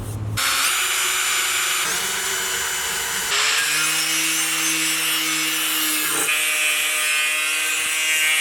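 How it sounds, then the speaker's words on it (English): A power grinder grinds down a piece of metal for bus floor work, a loud continuous high whine whose pitch shifts as the disc bites and eases, close up. "Got the piece of metal grinded down."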